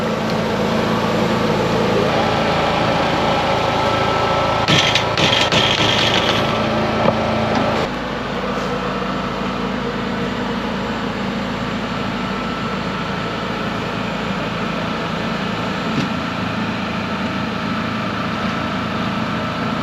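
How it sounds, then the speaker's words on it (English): An electric trolling motor drives a small boat on a five-acre pond, a steady droning hum running continuously with a brief rattle partway through, fairly close. "It's trolling motor."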